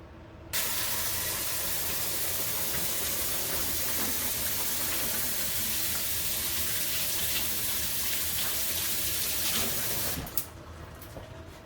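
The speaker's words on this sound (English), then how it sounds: "let's wash our hands" Tap water gushes steadily into a sink during handwashing in a home kitchen, a loud, continuous hiss that starts abruptly and cuts off near the end.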